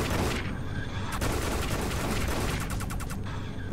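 Rapid bursts of gunfire while shooting enemies in the video game Dead Effect 2, loud and close, with sustained automatic fire and a stuttering rattle near the end.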